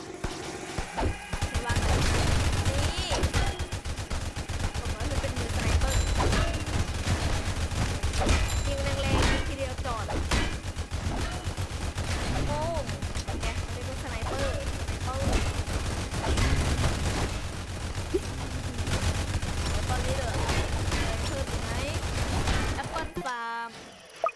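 Rapid gunfire from a sniper tower in the Roblox game Tower Defense Simulator, dense continuous bursts of game weapon sounds layered with other effects, under someone talking throughout.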